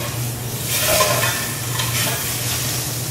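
Diced carrots and celery being stirred and fried in a pot with browned pork shank for a Bavarian pork shank sauce base, a continuous close sizzle with scraping stir sounds and a low steady hum beneath.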